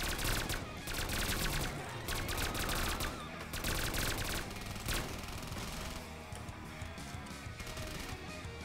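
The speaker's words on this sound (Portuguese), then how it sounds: "tá muito alta essas armas" Rapid automatic gunfire in the Black Ops 3 Custom Zombies mode, dense loud bursts of shots rattling almost continuously with brief gaps, near and dominant.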